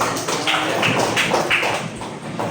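A classroom of students claps together in a quick rhythmic pattern during an Islamic religious education lesson. Short bursts of several claps repeat in steady groups, fairly close and clear, with no talking over them.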